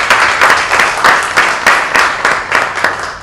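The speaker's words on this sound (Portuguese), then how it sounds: "aplauso para nós, que está trabalhando duro, aplauso de verdade" An audience claps loudly and steadily in rhythmic waves, close and continuous, with no voices on top.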